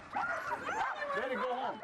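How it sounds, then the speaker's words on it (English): Alaskan sled dogs from a fourteen-dog team yipping and whining excitedly, high-pitched cries rising and falling close by in a steady chorus with a person talking among them. "14 dogs made up a team to pull our sled."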